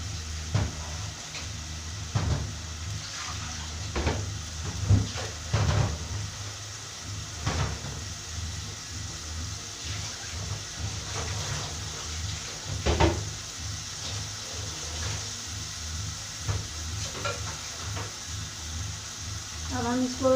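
Half a kilo of bone-in beef sizzles in a pan with masala, a low steady frying hiss broken by clanks of stirring and knocks of the pot, while a voice talks over it.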